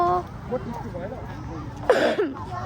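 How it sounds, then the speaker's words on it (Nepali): A single short cough breaks through ongoing talk near the end, close and fairly loud. "खोकी लाग्यो गाइस हल्का"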